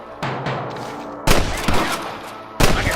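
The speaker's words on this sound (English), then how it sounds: "I can hear more gunshots." Bursts of gunfire from the Xbox game Red Dead Redemption, three loud volleys spaced about a second apart, each with a sharp attack and a brief ringing tail.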